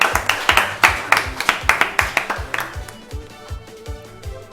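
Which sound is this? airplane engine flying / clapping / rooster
clapping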